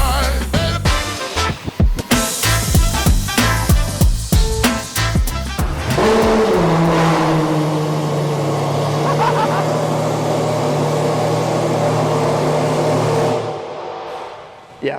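A supercar with a straight-pipe exhaust revs hard in a series of sharp, loud throttle blips and crackles, then settles into a deep, steady droning idle before cutting off near the end.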